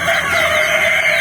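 Chickens clucking with a rooster crowing at a chicken farm, one short, close and loud burst of fowl calls.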